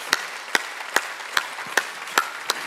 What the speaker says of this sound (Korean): 박수 좀 치라고.